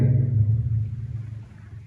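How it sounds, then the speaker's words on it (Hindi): Thunder rumbles as a deep, heavy roll that starts loud and slowly fades over a couple of seconds, heard alone without talking. "और बादल गरजने लगे।"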